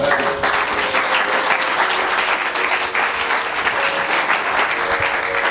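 A church congregation bursts into sustained applause and cheering for Jesus during an Easter Sunday service, a dense, steady clapping wash filling the room for several seconds without any clear speech.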